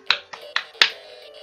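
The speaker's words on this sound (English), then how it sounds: "Everybody clap!" Four sharp claps ring out in quick succession in the video game Undertale, crisp and close, with a faint hum lingering underneath.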